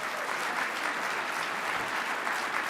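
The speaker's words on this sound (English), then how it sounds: "Give them a round of applause, everyone." Audience applause at an awards ceremony, a steady, dense wash of clapping from a large crowd that lasts throughout, with no voices standing out above it.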